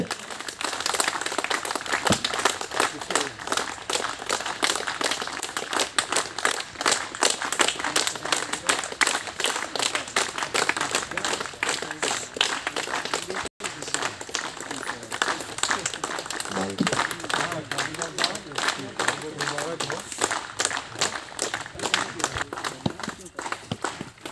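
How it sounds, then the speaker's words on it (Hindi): An audience at a recruitment officer rank ceremony at CTA Garhwa claps steadily and continuously, a dense, even patter of hands that runs throughout while an announcer speaks over it. "ताली बजती रहनी चाहिए"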